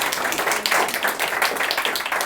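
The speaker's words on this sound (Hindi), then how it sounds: "तो सबसे पहले मैं चाहूँगा कि आप लोग हमारे चीफ गेस्ट अतुल सर के लिए एक बार ज़ोरदार ताली बजा दें।" An audience at a Hindi stand-up comedy show claps loudly for the chief guest, a dense, close burst of many hands clapping in uneven rhythm, with no voices heard over it.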